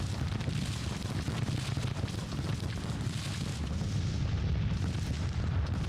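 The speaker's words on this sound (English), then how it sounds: "We also have this battery of artillery out here just blasting away." An artillery battery blasting away in Grand Tactician: The Civil War, a continuous heavy rumble of cannon fire and explosions blending into a dense, low roar.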